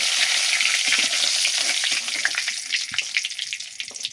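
Bay leaves sizzle in hot oil at the start of a country-chicken and potato curry, a close, constant crackling fry that eases slightly toward the end.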